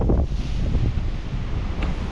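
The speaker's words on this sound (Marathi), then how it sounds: "वारा पण आहे वारा भरपूर आहे" Strong monsoon wind at the seashore buffets the microphone with loud, gusty low rumbling over distant surf, continuous for the whole stretch with no voices.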